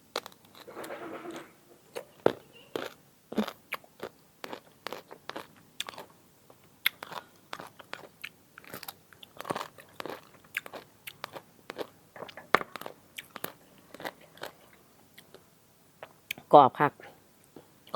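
Crisp mango is bitten and chewed up close, producing many short, sharp crunches at an uneven pace. Quiet gaps separate the crunches, and a brief voice sound comes near the end.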